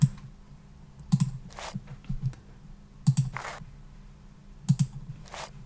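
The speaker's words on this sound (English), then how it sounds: "it's like a paper tear sound, just to start layering up the percussion" A paper tear sound used as a percussion layer, like a snare, in an electronic music track, heard as a repeating pattern of sharp crackly bursts with soft low thumps in a slow loop, no talk.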